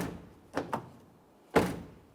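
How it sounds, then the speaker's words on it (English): Front door of a 2014-2018 Mazda 3 shut and opened: a close solid thunk with a latch click, a second quick clunk, then a louder slam a moment later, no talking. "let's go ahead and close the door, open it, make sure it functions as it should that way as well"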